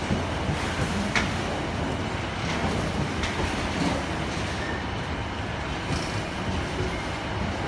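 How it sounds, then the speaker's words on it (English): Colas Rail class 70 freight locomotives pulling into Exeter St David's station, a steady rumbling roll with wheel noise and faint clatter that stays fairly constant throughout, with no voices. "Let me know if you've seen a freight train like this."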